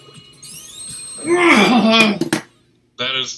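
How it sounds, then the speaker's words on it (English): The emerald-collection jingle from the video game Sonic Mania plays as bright, rising chime-like tones that swell and cut off, followed by a short silence and another burst of game sound. "Sound of the emerald get, I believe."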